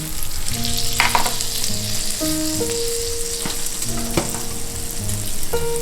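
Chicken wings sizzle under the oven broiler, a dense crackling and spitting fry sound held steady throughout, with scattered sharper pops and tonal hisses standing out; no one talks.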